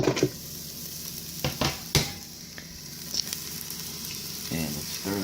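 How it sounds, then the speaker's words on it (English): Garlic and onions sauté in a Ninja Foodi with a steady close sizzle, broken by several sharp utensil scrapes and clacks as the pan is stirred; no talking. "We're going to go ahead and get the garlic and the onions in"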